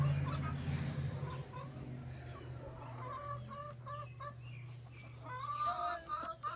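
Farmyard chickens cluck close by with scattered squawks, and a rooster gives a crow near the end, over a low steady hum during morning chores.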